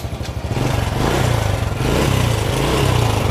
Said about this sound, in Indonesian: Ah, motor urip langsung greng-greng.